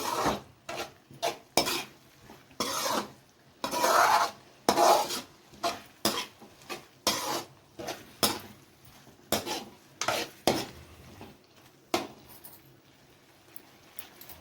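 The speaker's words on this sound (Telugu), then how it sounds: "అల్లం పేస్ట్ పచ్చివాసన పోయే వరకు కొంచెం సేపు ఫ్రై చేసుకోవాలి" Ginger paste fried and stirred in a pan, heard as a steady run of rhythmic scraping strokes from a spatula over a soft sizzle, close and clear, with no talking.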